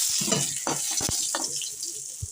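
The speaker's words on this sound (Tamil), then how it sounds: "இப்போ காஞ்ச மிளகாய் போட்டுக்கலாம்." Dried red chillies dropped into hot oil in a pan for pirandai chutney, a soft sizzle broken by a few scraping stir strokes and clinks, close and fairly quiet.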